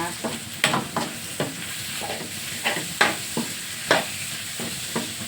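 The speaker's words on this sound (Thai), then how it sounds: "มาใส่แล้วก็มาผัดกันเลยนะคะ" Pounded shrimp and chili stir-fried in a hot pan, with a continuous oily sizzle punctuated by a series of quick spatula scrapes and taps at a rough, uneven rhythm, close-up and without voices.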